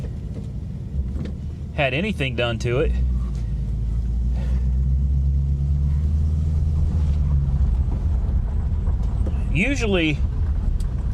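A 1991 Mercury Cougar's 3.8 engine idles with a steady low rumble throughout, while someone talks over it nearby.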